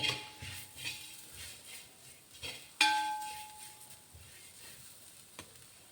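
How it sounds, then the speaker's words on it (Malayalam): Spices, including Kashmiri chilli powder, sauté in a pan with a faint, continuous sizzle, broken by occasional utensil scrapes and one sharp metallic clink of a spoon against the pan. "ഇപ്പം നല്ല വഴന്ന് വന്നിട്ടുണ്ട് കേട്ടോ. കിലി കിലി കിലി തന്നെ സൗണ്ട് കേൾക്കുന്നുണ്ട് കണ്ടോ"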